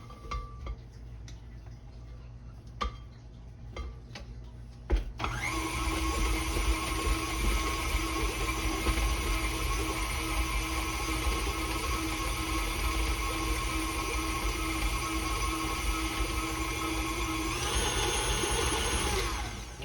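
Electric hand mixer beating pumpkin cookie dough from a holiday baking mix, dry ingredients being worked into the wet; the mixer starts abruptly a few seconds in and runs as a steady loud whir with a slight pitch change near the end.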